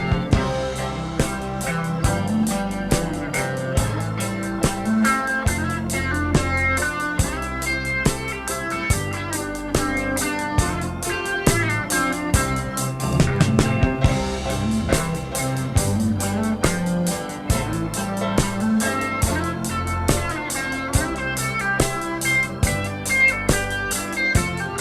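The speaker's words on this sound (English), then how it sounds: "The original guitar solo from 27A sounds like this." Original guitar solo from take 27A of the song, playing within the full band mix with steady drums, piano and bass, loud and continuous throughout.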